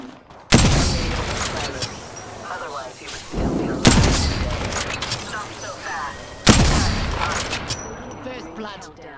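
Three heavy gunshot blasts in Apex Legends hit at spaced intervals, each trailing into chaotic combat noise and echoes, with speech heard between them.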